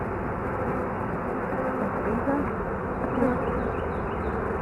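Dense, steady buzzing of many honey bees close by during installation of a new package of bees, a continuous droning hum with slight swells throughout.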